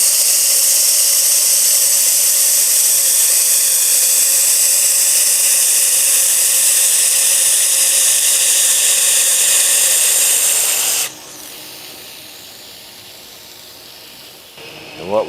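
A knife being sharpened on a 2x72 belt grinder, a loud steady hiss that runs for about eleven seconds before cutting off abruptly to a quieter hum.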